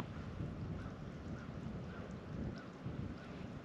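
Steady gusting wind roars across the microphone outdoors on a frozen lake during a March smelt ice fishing trip, a continuous broadband rush with no voices.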